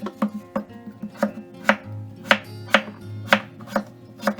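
A knife slices peeled potato thinly for a Spanish tortilla, making crisp, close cutting taps against a board at an uneven but steady pace, about ten distinct strikes with nothing else heard.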